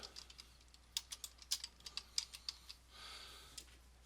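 Quiet clicks of typing on a computer keyboard come in an uneven run of separate keystrokes, then give way to a soft brief rustle before one last tap.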